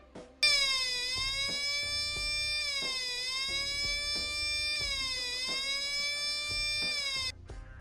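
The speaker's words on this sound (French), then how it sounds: "Et dans ce cas là, au niveau de la sirène, on va entendre ça." Electronic siren driven by an NE555 timer oscillator, a clear warbling tone that sweeps up and falls back in repeating cycles of about two seconds, steady and alone.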